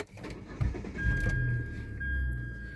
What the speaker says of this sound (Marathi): आपण बघून घेऊयात एकदा इंजिन नॉईस बघू गाडीचा